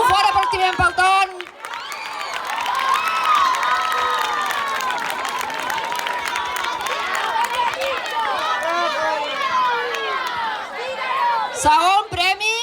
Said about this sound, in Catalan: Un fort aplaudiment pel Ton.